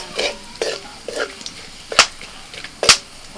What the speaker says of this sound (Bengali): ফোড়নে দিচ্ছি এলাচ, দারচিনি, লবঙ্গ আর গোটা জিরে, তার সাথে দিচ্ছি তেজপাতা।